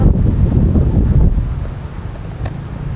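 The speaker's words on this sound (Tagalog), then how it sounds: "ang mahangin. Mahangin talaga." Gusty wind buffets the microphone in heavy low rumbles, loud at first and then easing slightly, with no voices present.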